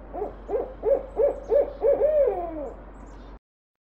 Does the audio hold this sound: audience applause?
no